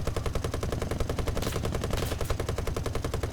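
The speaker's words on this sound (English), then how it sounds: "I'm going to use the front guns on this guy." Front-mounted 7.7 mm Browning machine guns on a Beaufort Mk VIII fire in War Thunder as one sustained, rapid, even burst, loud and close.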